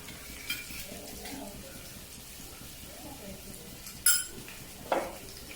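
Sliced onion going into oil after mustard seeds have popped, a soft steady sizzle in a pan with stirring and a couple of sharp utensil clinks against the pan.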